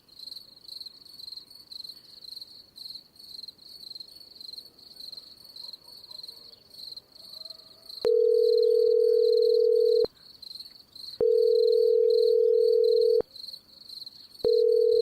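Steady insect chirring fills the background as a phone ring tone sounds in long repeated bursts, ringing again and again without being picked up.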